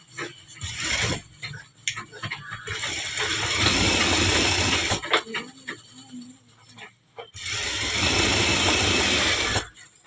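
Close sewing machine runs stitching an edge seam on silk cotton lining in two long bursts, with short start-stop bits and quiet handling between them.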